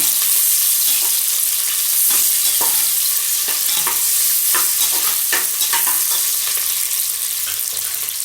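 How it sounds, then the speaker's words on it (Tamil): Chopped onions sauté in hot oil in a pan for chettinad-style chicken biryani, a steady close sizzle broken by repeated scraping stirs of a spoon against the pan, with no voices. "வெங்காயம் வந்து நல்லா வதக்கி விடுங்க."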